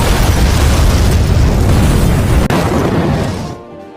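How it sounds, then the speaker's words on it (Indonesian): A massive, loud grenade explosion roars with dense rumbling that sustains for several seconds before abruptly cutting off. "Terjadilah ledakan yang melenyapkan semuanya."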